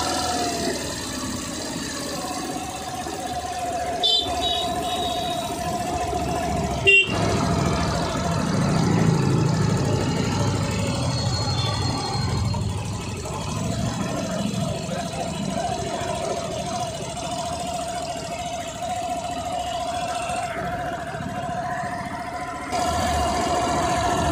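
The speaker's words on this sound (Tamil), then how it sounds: "இப்போ பார்த்தா தெரியும், வண்டி வந்து ஸ்லோவில் வந்து ஓடிக்கிட்டு இருக்குது" A Suzuki Avenis BS6 scooter with a slow-idle problem runs at low idle, a steady close engine drone with a faint ticking edge and brief knocks partway through, and a voice talking softly over it.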